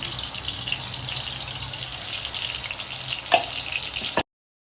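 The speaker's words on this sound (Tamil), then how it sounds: "இதை நல்லா நல்லா போட்டு வதக்கிக்கிறலாம் நல்லா பொன் கலர் வர மாதிரி கொஞ்சம் வதக்கிக்கலாம்" Onion and tomato paste sautéing in a pan for chicken gravy makes a continuous dense sizzle, close and even, with a brief clatter near the end before it cuts off; nobody speaks.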